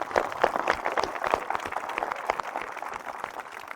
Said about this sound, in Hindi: तालियां हो जाए एक बार